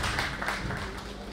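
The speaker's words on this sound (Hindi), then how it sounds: "इधर तालियों के सम्मान में कोई कमी ना रह जाए।" An audience at an award ceremony in the YMCA auditorium, Connaught Place, applauds a recipient, producing a steady, dense wash of clapping that stays at an even, moderate level throughout the short moment.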